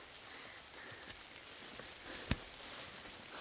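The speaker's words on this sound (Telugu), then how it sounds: "వర్షం పడింది." Steady rain falls outdoors on a high Himalayan mountain trail in Himachal Pradesh, a soft continuous hiss with one brief sharp tap midway and no talking.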